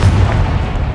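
A Confringo fire spell bursting in the video game Hogwarts Legacy, a deep, rumbling boom that holds steady and loud for about a second under dense combat effects.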